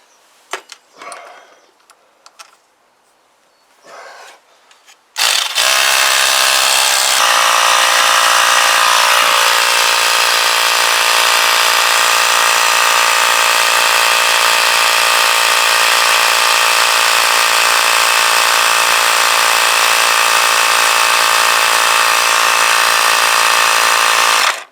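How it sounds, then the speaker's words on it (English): An air compressor inflates the tyre of a Kawasaki GPZ500S motorcycle, starting after a few faint handling knocks and then running as a loud, steady mechanical whine and hum close by for the rest of the time. "see if we can get a bit of wind in this tyre as well"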